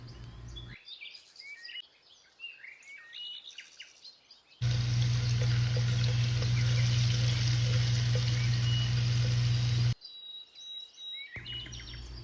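Garlic paste sautés in hot oil in a pan with a loud, steady sizzle lasting several seconds. Quieter stretches on either side carry birdsong in the background.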